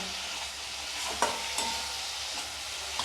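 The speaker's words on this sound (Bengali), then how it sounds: "টমেটো দিয়ে টমেটোকে ভালো করে এটার সঙ্গে কষিয়ে নেব" Tomatoes and spice paste sauté in a pan with a continuous, even sizzle, and a few soft scrapes of a stirring spoon surface now and then.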